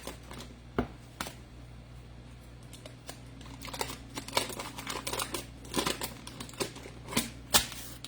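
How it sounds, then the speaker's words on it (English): Salted butter block being unwrapped from its paper, a quiet series of sharp crinkles and rustling snaps spaced irregularly, close up with a low steady hum behind. "So the first thing I want to do is unwrap this."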